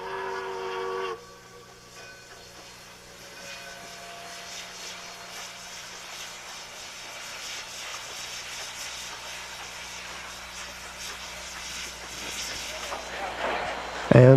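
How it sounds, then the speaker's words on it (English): Denver & Rio Grande narrow gauge steam train pulling over a hump, a long rumbling, hissing roar that builds steadily, opening with a brief whistle tone and ending with a loud close burst, with someone narrating over it. "Now, all that's left is to pull the train over the hump and uncouple the helper"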